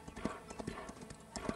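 Horse hooves clip-clop in a steady, fairly quiet rhythm in the Equestriad World Tour video game, with a handful of distinct hoofbeats over a short stretch.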